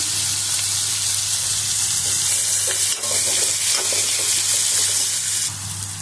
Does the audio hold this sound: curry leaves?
yes